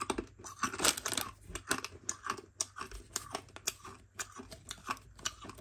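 Someone chewing 24-year-old bubble gum from a 1990 Topps Jumbo Pak of baseball cards, with close, wet crunching and smacking bites that repeat in an uneven rhythm.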